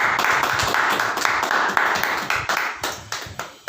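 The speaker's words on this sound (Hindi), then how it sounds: "हम लोग मिलके ताली मार के प्रभु का स्तुति करेंगे" A church congregation claps hands together in praise, a dense, steady rhythmic clapping close by that slows and thins toward the end, with no talk.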